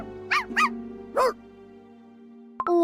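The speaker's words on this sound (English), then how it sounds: "What's with all this barking?" Three short dog barks from Cookie Run Kingdom ring out in quick succession, clear and close, separated by brief pauses over a steady game music bed, followed by a soft chime.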